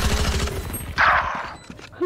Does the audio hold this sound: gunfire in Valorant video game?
yes